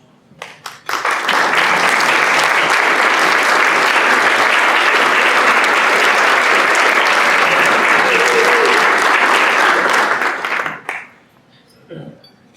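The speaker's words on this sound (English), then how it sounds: "you want to stand so we can give you a big applause?" A Rotary club audience gives sustained, loud applause at a leadership transition and recognitions meeting, dense clapping lasting about ten seconds before fading out, followed by brief quiet sounds.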